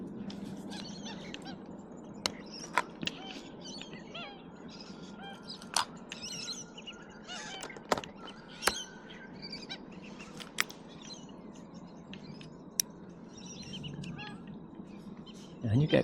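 Pied stilts fighting at close range, their sharp yapping calls popping out in irregular bursts over a low steady background hum, some calls loud and near, others fainter.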